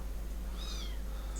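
A kitten gives one faint, high, rising meow lasting under a second, over a steady low electrical hum in an indoor room.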